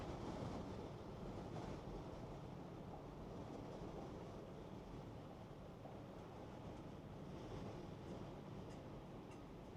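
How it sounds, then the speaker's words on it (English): Gusty wind from a storm gust front roars steadily outdoors at night, a broad buffeting rush that swells and eases over several seconds, with no talk. "The gust front has come through, and it's nothing too big a deal."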